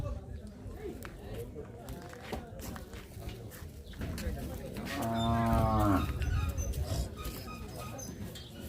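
At a cattle market in the Sylhet border area, a cow lets out one loud, drawn-out moo near the middle. Crowd chatter and other market noise continue around it.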